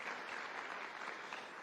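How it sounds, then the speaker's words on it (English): Sustained audience applause fills a conference hall at a Kenya Private Sector Alliance event at KICC in Nairobi, a steady dense wash of many hands clapping with no pauses. "I think you should applaud yourselves for that."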